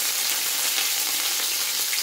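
Curry leaves frying in hot oil for a Kerala-style kunthal (squid) roast, giving a steady, loud, even sizzle that holds for the whole moment with no talk over it.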